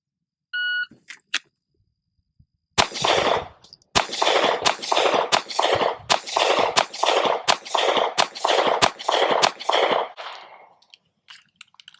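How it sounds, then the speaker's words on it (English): A Sig P365 XL pistol firing 124 grain Lawman rounds at 10 yards: a shot timer beeps, then ten sharp, loud gunshots follow in a quick, fairly even string, each with a short echoing tail. "I'm going to shoot the test, which is 10 rounds, 10 yards on a B8 in less than 10 seconds, and I'm shooting with the P365 XL"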